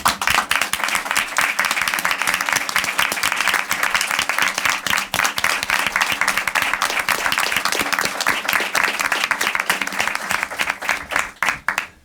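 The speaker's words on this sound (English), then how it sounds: "if you would just stand so we can give you an applause" An audience at a Capitol Hill briefing celebrating charter school teachers claps for about twelve seconds, dense and sustained, with individual claps standing out, before tapering off at the end.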